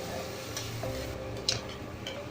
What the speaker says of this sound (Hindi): इन सारी चीज़ों को मैं बिल्कुल अच्छे से स्टर फ्राई कर लूँगी।